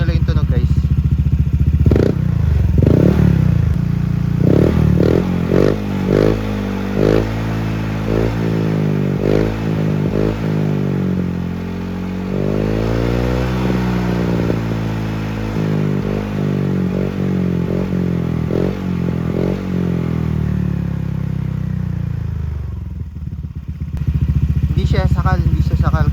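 A motorcycle fitted with a PAVTA Indo exhaust pipe revs loudly and repeatedly up close, the engine note rising and falling in long pulls with some clatter. A voice can be heard under the engine.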